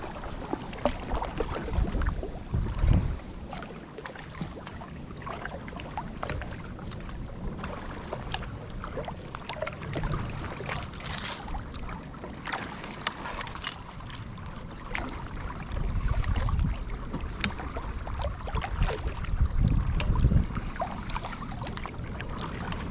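Steady splashing and dipping of a kayak paddle in water, a continuous soft wash with occasional louder strokes, close by, no talking.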